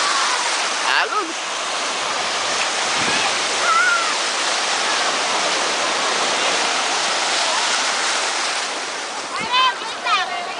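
Continuous rushing surf, like waves breaking close by on a Bohol shore in the Philippines, with brief excited voices near the start and end.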